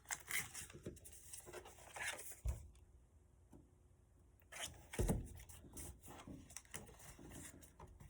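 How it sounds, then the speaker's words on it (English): Folded origami paper being pulled out of a paper fighter-jet model: soft, close crinkling and rustling with a couple of sharper paper snaps, faint and intermittent, no talking. "Now you're just going to pull out this paper"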